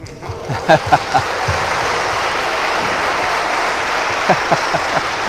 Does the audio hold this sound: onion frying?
no